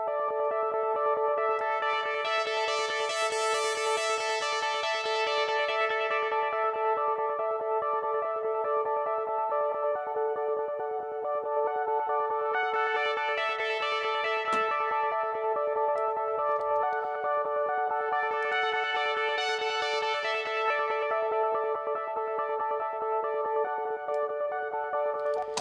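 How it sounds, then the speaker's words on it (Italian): A sustained music mix with a loud delay filtered to the mid range, shifting tones smearing into each other as echoes pile up steadily, with brighter washes rising and fading, no voices. "Quindi faccio in modo che il delay vada ad agire solo nel mid range."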